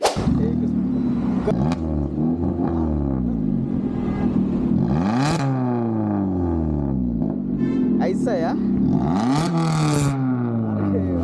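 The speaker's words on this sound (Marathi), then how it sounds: "या गाडीला आहे एक्झॉस्ट बोरला एक्सेस प्रो एक्झॉस्ट" A Stage 1 tuned Maruti Swift with a Borla exhaust revs hard in repeated rising and falling sweeps, loud and close, with pops and crackles between pulls and brief talk underneath.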